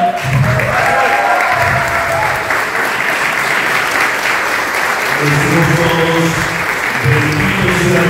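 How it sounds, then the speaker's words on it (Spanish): A wedding congregation inside a church breaks into steady applause, loud and continuous throughout, with a voice and music briefly heard beneath the clapping. "Nos voy a pedir un fuerte aplauso."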